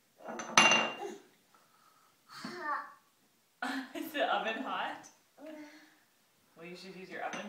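Toy dishes and cutlery clatter in scattered bursts as a child sets a little play table, with the clinks mixed among voices of a child and an adult talking nearby.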